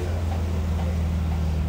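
Inline six-cylinder engine of a Tuksedo Studio 300 SL Gullwing replica car, a steady low droning hum heard from inside the cabin while driving, continuous and moderately loud with no talk over it.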